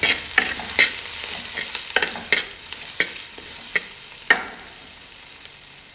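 Turmeric and chilli powder sizzle in hot oil while a spoon scrapes and stirs the pan in quick irregular strokes, close and clear with no voices.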